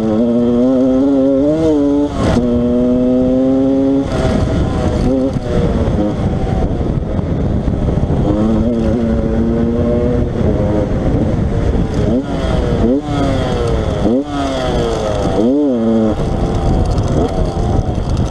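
A 125 DTR motorcycle, a road-legal enduro conversion of a Yamaha YZ, revs hard on a test ride, its two-stroke engine rising and falling through repeated gear changes, loud and close throughout with wind noise.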